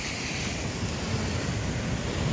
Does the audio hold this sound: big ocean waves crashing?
yes